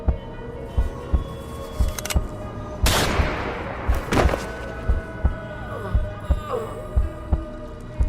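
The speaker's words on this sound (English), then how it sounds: "I felt my quick heartbeat despite the thick chitin." A quick heartbeat sound effect thumps in a steady, rapid rhythm of soft low pulses through the whole stretch, over a low ambient drone with a brief louder swell in the middle.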